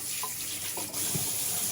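Bathroom water tap running steadily into a sink for rinsing after a shave, a close, constant gush and splash over the short stretch, with no voices.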